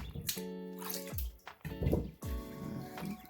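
Water runs and drips in uneven bursts as a sweet potato is rinsed under a tap, close splashing and trickling with short pauses between pours.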